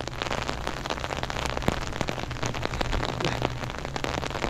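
Steady rain falls across an open field, a dense, continuous patter of drops close by with no voices.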